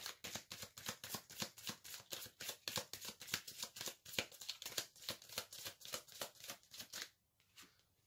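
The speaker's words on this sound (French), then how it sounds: "Je vais maintenant tirer les cartes des oracles." Oracle cards being shuffled and drawn by hand, a fast run of crisp riffling flicks repeating steadily for about seven seconds, close and fairly quiet, then trailing off into near silence.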